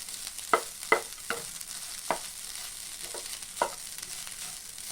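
Drumstick leaf fried rice stirred in a pan over high flame: a steady sizzle under several sharp spatula scrapes and taps at irregular intervals, close and alone without speech.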